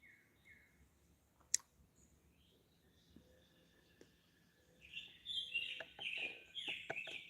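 Birds chirp and call outdoors by Bull Shoals Lake, faint sparse notes at first, then livelier and louder repeated calls with a few clicks near the end.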